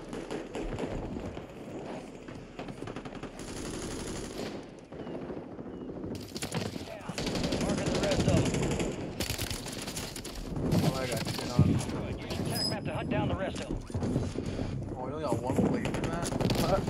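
Rapid automatic gunfire from the video game Warzone on Rebirth Island, bursts of shots rattling in short sequences while a player talks excitedly over the action.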